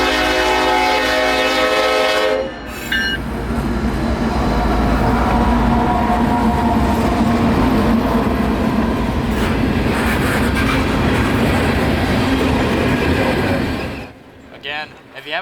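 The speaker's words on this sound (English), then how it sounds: "I'll include the first two engines passing 78th Street close to the end of our chase." Freight train locomotives pass 78th Street at night. A loud multi-tone horn sounds for the first couple of seconds, then the engines rumble past up close with steady rolling rail noise, which fades out near the end.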